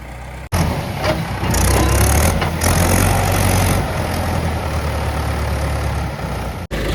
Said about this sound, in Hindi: एक ट्रैक्टर जो हैगा जॉन डियर, वो भी आ रहा है। वो आ रही है जॉन डियर, सामने आ रहा है।